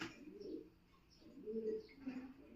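A Pakistani high flyer pigeon coos softly in a few low, throaty bursts at close range, with light background noise between the calls.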